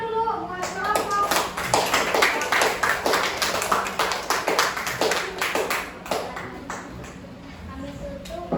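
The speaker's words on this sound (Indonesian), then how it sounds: "Tepuk tangan dulu buat kelompok" Group applause in a classroom, many hands clapping in dense, irregular bursts that keep going steadily for several seconds, close and fairly loud, with a few voices mixed in underneath.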